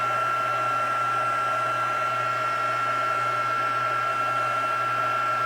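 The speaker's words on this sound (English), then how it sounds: "I'm just embossing them all because I don't want to get it all over me" A heat gun blows continuously over embossing powder on a holly Christmas card, a steady close whooshing hum with a constant tonal whine and no break.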